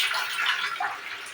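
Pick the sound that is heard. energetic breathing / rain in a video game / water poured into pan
water poured into pan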